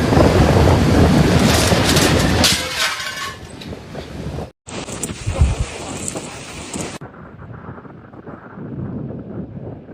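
Typhoon Kajiki storm: loud rushing wind and rain with thunder-like crashes. The sound cuts abruptly between separate loud stretches and ends in quieter rain and wind.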